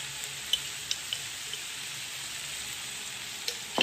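Chicken kachori filling with soy sauce and lemon juice is mixed in a hot pan, keeping up a steady close sizzle with a few sharp spoon taps and clinks throughout.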